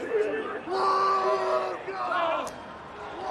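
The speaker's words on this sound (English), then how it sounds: "you can really hear the roars coming from within that scrum as the Italians try to get a shove on" Rugby union scrum in an under-20s Six Nations match between Scotland and Italy in an empty stadium, with players' hoarse roars and shouts rising from the pack in bursts, close and loud against the quiet ground.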